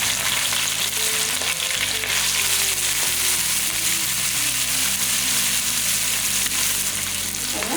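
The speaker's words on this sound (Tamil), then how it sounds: "நம்ம எடுத்து வச்சுருக்க இந்த பச்சை மிளகாய் வெங்காயம் இதுவே இதில் போட்டுக்கலாம்" Green chillies and onions fry in hot oil with asafoetida, giving a loud, steady sizzle that runs the whole time beneath continuous low background music.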